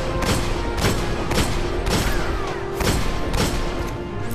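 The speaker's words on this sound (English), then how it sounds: "these skiffs will start shooting at you" Skiffs in the shooter game Destiny fire repeated bursts of gunfire, loud booming shots landing roughly every half second in a steady volley over a dense rumbling battle din.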